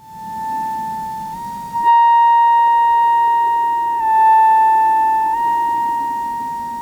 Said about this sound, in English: Oscillator 1 is running a saw,